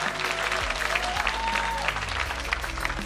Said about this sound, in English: Can we have a big, big, big round of applause?